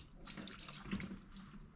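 Water poured from a small container to rinse spilled brake fluid off parts during a rear brake disc and pad job on a 2009 Volkswagen Golf Mk6 2.0 TDI, a steady close splashing trickle with no talk.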